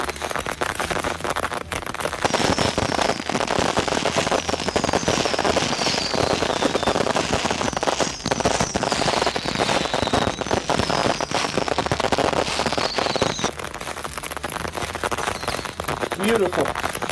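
Rapid, minigun-like explosions from the Fate/Grand Order game: a loud, dense, unbroken barrage of crackling blasts lasting many seconds, with a brief lull near the end.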